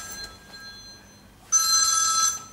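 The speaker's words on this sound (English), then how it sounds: "Sorry, I forgot to switch off my phone." A mobile phone rings loudly in a quiet room, a steady electronic ringtone that starts abruptly and holds for about a second before cutting off.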